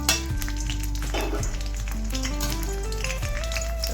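Four or five green chillies crackling in hot oil in a pan for sabudana khichdi, a soft steady sizzle under background music, with occasional stirring taps.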